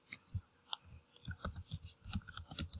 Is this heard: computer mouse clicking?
yes